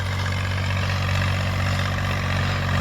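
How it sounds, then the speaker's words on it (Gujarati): A tractor with a rotary tiller works overgrown fallow land, its engine droning in a steady, loud, low hum from start to end, with no voices. "જો આ ટ્રેક્ટર હાલે છે"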